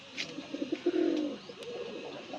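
Pigeons coo in a series of low, soft rolling calls among a loft of racing pigeons, including red-footed and white-eyed birds, with a few faint higher chirps over steady background hum.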